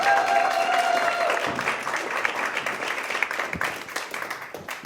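An audience applauds to welcome a speaker onto the stage, a sustained round of clapping that starts full and gradually thins and loosens, with a faint tone at the start.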